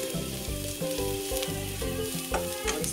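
Garlic, onion and ginger with spices fry in a pan over medium heat: a dense, continuous close sizzle with rhythmic stirring scrapes and a faint tonal hum behind it.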